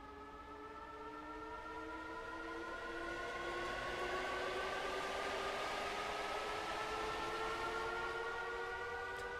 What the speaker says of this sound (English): I'm just going to stick my camera over here to watch the train shoot past us.